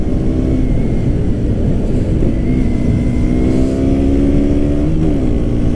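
A stock-exhaust 2017 KTM Duke 125 motorcycle pulls hard on a road ride, its engine note droning loud and close as revs climb steadily, with a short dip and rise near the end.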